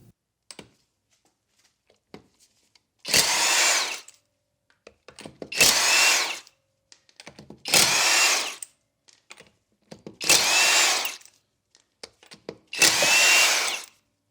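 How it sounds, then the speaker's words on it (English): A Masterforce 1/2-inch cordless impact wrench with a 19mm socket, at its highest speed setting, spins off lug nuts torqued to 80 foot-pounds: five separate loud bursts of rapid hammering, each about a second long, with socket clinks and handling noises in the quiet between. "I have here lug nuts torqued down to 80 foot-pounds, 19mm socket, full battery at mode 3 for the highest speed."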